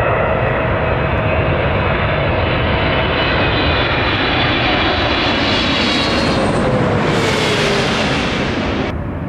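A loud, steady roar of an airplane passing overhead near LAX, swelling and shifting in pitch before cutting off abruptly at the end.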